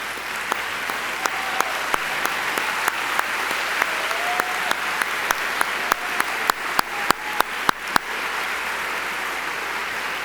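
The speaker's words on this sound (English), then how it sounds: "we can all raise up and give a round of applause to the UN" An audience at a Model United Nations closing ceremony applauds, a broad wash of clapping with sharp individual claps popping out and growing more frequent toward the end.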